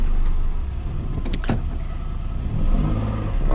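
Car engine idling and pulling away in reverse gear after a clutch repair, a steady low rumble with a short mechanical clunk midway and a slight rise in revs at the end.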